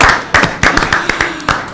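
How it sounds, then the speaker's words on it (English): At a city council meeting, a handful of separate handclaps ring out in a loose, uneven rhythm, about eight sharp slaps, close and fairly loud, more a scattered round than full applause. "So I think we should begin with a round of applause for Danielle Casali."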